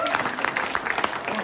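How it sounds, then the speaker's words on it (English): An audience at a photography exhibition panel discussion applauds the panelists, a short burst of steady clapping with a murmur of voices running underneath. "please give a huge round of applause to our panelists"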